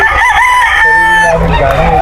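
A rooster crows loudly and close at a chicken market, its drawn-out call rising and holding over a background of other fowl clucking.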